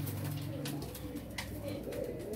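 Pigeons of the Sialkoti breed coo in low, sustained purrs, starting at the beginning and then coming back in a second phrase. The sound is faint against soft background noise.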